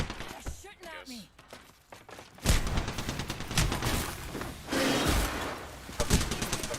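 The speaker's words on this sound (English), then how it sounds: "They're shooting at me." Rapid bursts of gunfire from Apex Legends Season 7 crackle in dense volleys, some close and loud, with a person talking over the shots.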